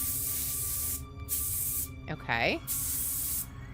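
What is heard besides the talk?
spray painting a mannequin's beard in video game True Fear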